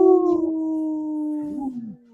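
A dog howls in a long, sustained, slowly falling tone, loud and close, tapering off at the end with no talk over it.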